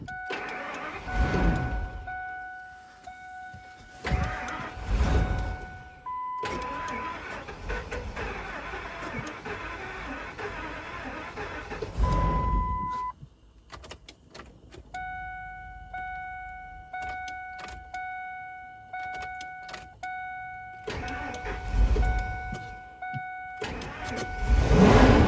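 Ford Excursion engine being cranked again after more gas is added, several close bursts of starter grinding separated by steady electronic warning chimes, ending with the engine catching and running.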